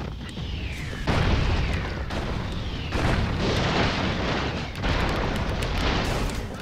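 Mortar explosions in the video game Broforce, heavy booming blasts striking every second or so over a dense, continuous roar of battle, loud and close with no talking.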